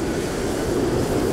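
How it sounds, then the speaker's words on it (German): Airplanes in the background at a small airfield in Microsoft Flight Simulator give a constant, dense engine drone and rumble with no breaks over the short stretch. "Hier auf meinem Stimme hört man die Flugzeuge im Hintergrund,"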